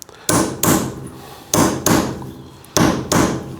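A big hammer strikes a seized bicycle seatpost in three pairs of sharp, loud metallic blows, each pair closely spaced with short pauses between.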